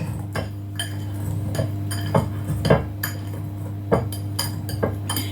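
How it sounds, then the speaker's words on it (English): A whisk clinks and scrapes rhythmically against a bowl while coffee cake batter is mixed, repeated metallic taps over a steady low kitchen hum, close and fairly loud, no talking. "I have to mix it with the whisk."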